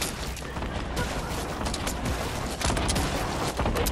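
Dense, continuous gunfire from a video game squad battle, with overlapping shots and booms crackling throughout, loud and close with no gaps.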